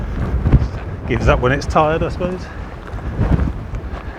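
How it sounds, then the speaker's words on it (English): Gusty coastal wind buffets the microphone in steady roaring waves along the England Coast Path between Landguard Fort and Bawdsey Ferry, beside a golf course, while someone talks over it. "Wow, that is getting quite windy."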